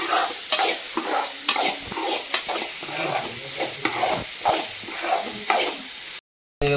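A spatula sautés jackfruit vegetable in a pan in rhythmic back-and-forth strokes over a constant sizzle, loud and close, ending in a sudden cut to silence.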